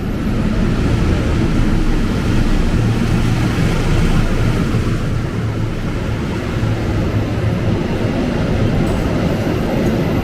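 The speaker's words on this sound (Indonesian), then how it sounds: "Dan jalur 2-nya bener ya, bakal melintas dulu kereta api jarak jauh." A loud, steady rumble and roar of a long-distance train passing continuously nearby on the Cikarang line, with no breaks and no voices.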